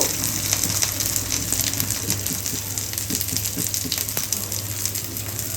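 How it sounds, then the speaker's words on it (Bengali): Dried shark fish sizzles and fries in a pan on a stove, a steady hissing crackle with scattered pops, close and continuous. "লাল লাল করে ভাজা হয়ে গেছে এগুলো"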